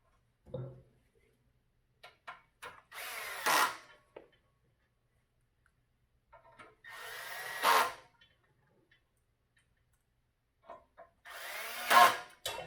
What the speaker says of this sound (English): Use my handy dandy drill here. Got a little clutch setting on there so it doesn't over tighten.